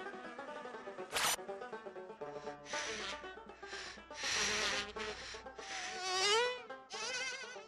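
A honeybee buzzes loudly in flight, a continuous droning hum that rises and falls in pitch in repeated swells with no voices.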